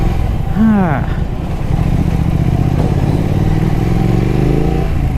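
Exhaust rumble of a Triumph Thruxton motorcycle on a morning ride, a loud steady engine drone with rising and falling revs, with a brief whistling tone early on and wind noise throughout.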